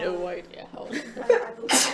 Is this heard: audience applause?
no